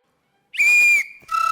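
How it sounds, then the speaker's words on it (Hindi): A whistle is blown in one sharp, loud, shrill blast of about half a second, followed after a short pause by a second, trilling burst, both close and clear against silence. "सीटी क्यों बजा रही है आप?"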